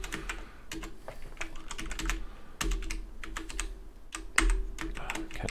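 Computer keyboard typed on while writing Unity game controller code, fast close clattering keystrokes in uneven bursts with sharper thumps of heavier keys, continuous throughout.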